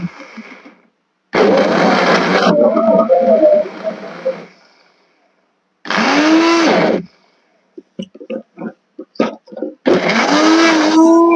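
A Silvercrest blender motor whirs in several loud bursts, starting and stopping, with short pauses and clattering between runs.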